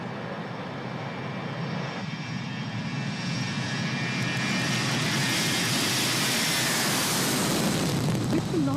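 Airplane engine of a civil aviation aircraft at Paro airport in Bhutan, a loud continuous roar with a rising whine that builds steadily and sounds close.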